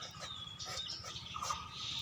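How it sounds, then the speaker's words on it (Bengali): In a village yard, birds, doves among them, call alongside chickens, faint and somewhat distant, with thin chirps and clucks over a quiet background. "দেখেন এখানে পাখির শব্দ শোনা যাচ্ছে, মুরগি আছে, তাই না?"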